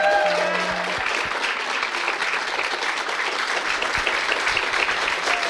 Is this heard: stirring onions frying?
no